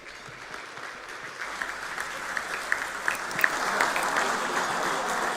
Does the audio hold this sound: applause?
yes